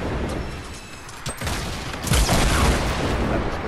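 Gunfire and rocket launcher shots in a video game, a continuous loud barrage of booms and rapid shots with a heavier blast midway.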